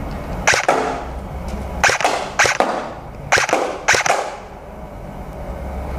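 An AK47-style BB gun with a real wood and steel body fires repeated sharp cracks, alone and close, in pairs and singles spread across a few seconds.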